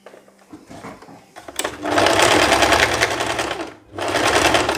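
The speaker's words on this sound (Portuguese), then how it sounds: "a gente vai costurar, fazer a costura reta exatamente aqui" Sewing machine running a straight seam on a lace dress, a loud close mechanical whir in two sustained bursts with a brief stop between them, preceded by quieter handling.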